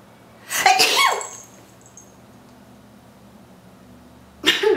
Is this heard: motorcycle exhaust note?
no